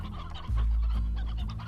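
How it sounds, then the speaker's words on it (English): Chickens clucking in the video game Slime Rancher, a loud, steady run of overlapping fowl clucks and calls with a brief louder swell partway through, no talking. "Well, the chickens are doing great."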